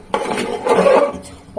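A lid set down over a cooking pot of vegetarian food on the stove gives a brief close clatter, with a soft metallic rattle as it settles, and no voices.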